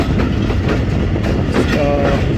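The Jaffar Express passenger train runs through Sanjwal station on a foggy winter day, its wheels and carriages rumbling and clattering loudly and continuously close by.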